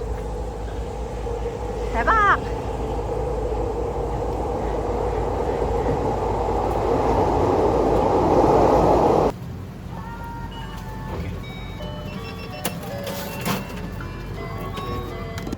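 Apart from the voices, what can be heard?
train passing by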